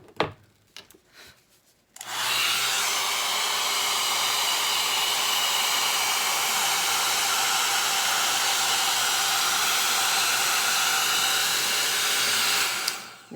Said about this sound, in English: let's go ahead and blow dry this straight in this super bright lighting